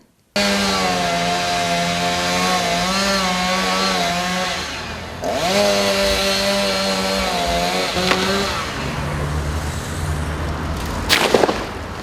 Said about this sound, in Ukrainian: Це бригада працівників комунального підприємства Благоустрій Кремчука кронує пірамідальні тополі.